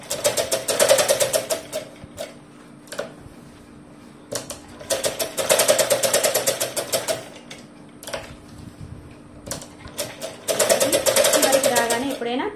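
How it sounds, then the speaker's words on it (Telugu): A sewing machine runs in repeated bursts of rapid stitching along the edge of a long frock cut from an old saree, pausing between runs while someone talks quietly over it. "ఇలా మొత్తం చివరి వరకు నీట్ గా స్టిచ్ చేసుకోవాలి"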